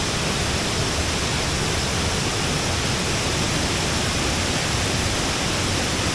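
Savatkada waterfall in the Konkan near Chunakolvan, Rajapur, running full in the monsoon, roars as a loud, dense, unbroken rush of falling water heard from close by, with no voices.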